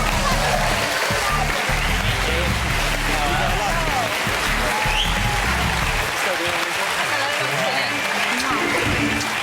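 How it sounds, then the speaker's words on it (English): Studio audience at a comedy quiz show applauding and cheering as a celebrity couple comes on, loud sustained clapping with voices rising over it, easing off toward the end. "please give a warm round of applause for the couple of the year, Jordan and Peter Andre"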